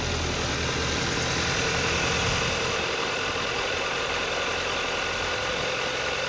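A 2014 Kia Optima LX's 2.4-liter engine idles under the open hood after a collision, a steady low rumble with broadband hiss and no change in pace, heard fairly faint and alone.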